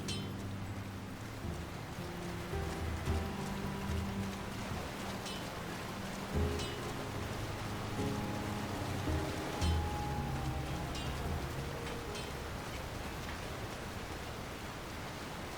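Steady rain falling over a town in the video game LOTR War in the North, a constant soft hiss of drops with faint low rumbles, continuous and unbroken with no talk.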